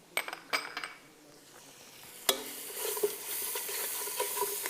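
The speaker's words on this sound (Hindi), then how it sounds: "जब लहसुन अदरक का पेस्ट और हरी मिर्चें जो है अच्छे से भुन जाएं" Garlic ginger paste and green chillies frying in oil for fish mandi: a steady, soft sizzle under scattered metallic clinks and scrapes of a stirring spoon against the pan, with one sharper knock partway through.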